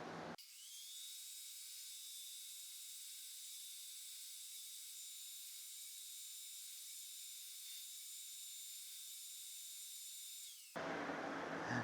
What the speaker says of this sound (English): this is basically just hitting the edge of the dado blade